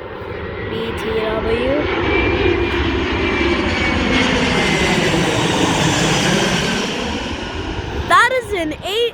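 An Avianca Airbus A320 airliner flies overhead near Dulles airport, a loud sustained jet engine roar with a sweeping pitch shift as it passes; someone speaks briefly near the end.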